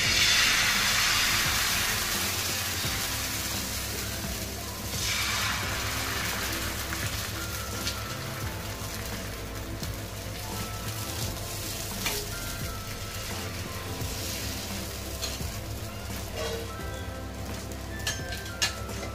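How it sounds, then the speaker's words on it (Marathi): Dosa batter poured onto a hot griddle, spreading with a bright hiss that fades into a soft, steady sizzle and occasional light taps, close and alone. "हे आपण बॅटर केलेलं जे आहे ते सोडून घ्यायचंय."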